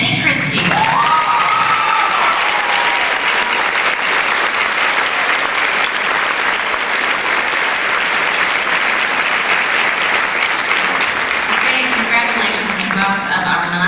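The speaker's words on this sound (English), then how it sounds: "let's give another round of applause" Sustained audience applause fills a pageant hall for a scholarship award winner, dense and even throughout, with a few faint cheers mixed in.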